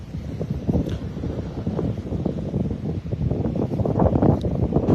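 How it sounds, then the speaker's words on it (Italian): Strong wind on the Sicilian coast at Brolo on a rainy morning, roaring and buffeting the microphone in a steady, gusty rush that swells louder toward the end, with no talking. "adesso il vento un po' è protagonista in questi attimi"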